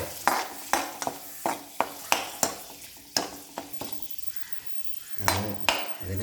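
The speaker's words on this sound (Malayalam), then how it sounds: "ഈ ചൂടുള്ള ഗ്യാസ് ഓഫ് ചെയ്തതിന് ശേഷം വേപ്പിൻ്റെ ഇല എല്ലാം കൂടെ ഒന്ന് ചൂടാക്കുക" Curry leaves heated in a hot pan after the gas is switched off, giving repeated sharp clatters and stirring scrapes over a soft, close sizzle, with no talking.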